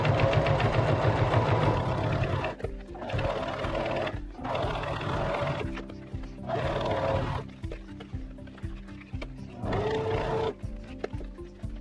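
A sewing machine top-stitching fabric seams runs steadily in several bursts of a few seconds each, separated by brief pauses, with a dense whirring hum close by.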